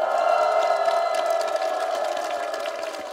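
Crowd of older students in a Korean trot singing class whooping and clapping together, a dense, sustained cheer with a steady tonal hum running under it, fading slightly toward the end.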